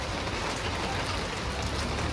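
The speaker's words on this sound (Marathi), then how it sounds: "भरपूर पाऊस पडतो आहे" Heavy rain pours down in a dense, continuous wash of drops striking surfaces nearby, loud and unbroken throughout.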